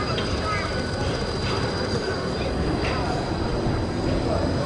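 A tram rolls along a rainy city street with a steady, dense rumble of wheels on rails and a thin, sustained squeal, close by and continuous throughout.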